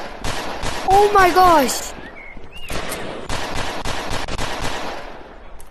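Rapid bursts of automatic gunfire ring out at a shooting range in the VR game Rec Room, loud and close, in quick repeated volleys with a voice speaking briefly between them.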